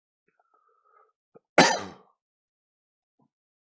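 A single loud cough bursts out after a near-silent stretch, preceded by a faint click, then quiet returns.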